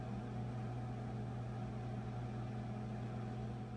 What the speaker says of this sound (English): I'm going to pop these in the microwave for 5 minutes